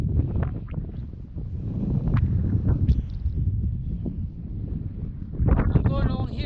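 Gusty wind buffeting the microphone on an exposed mountain ridge, a low rumbling roar that rises and falls while a voice talks over it.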